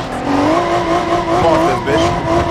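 A loud car engine in the video game BeamNG.Drive roars and whines with squealing tires, shifting pitch as it speeds along, with a voice talking over it.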